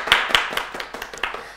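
Applause for a team at a couples' game show in Bishkek: a short burst of close, sparse hand claps, several sharp slaps fading out over about a second and a half.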